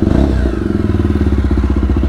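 A motorcycle engine idles close by with a steady, rapid low thumping pulse, loud and continuous, no voices.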